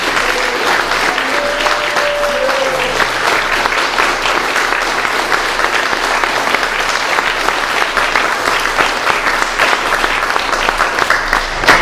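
An audience breaks into loud, sustained applause at a bronze plaque unveiling at a university museum. Dense clapping carries on steadily for the whole stretch, with a brief tone early on.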